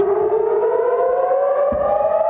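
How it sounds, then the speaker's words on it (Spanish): Civil defense air raid sirens in Israel wail steadily under attack, a loud sustained tone holding throughout with no speech. "Las sirenas no dejaban de sonar."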